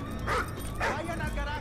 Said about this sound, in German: Das ist ein Hundi.